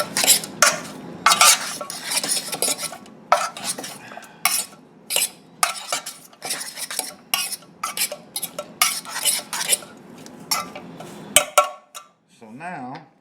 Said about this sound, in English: I'm gonna mix this up a bit.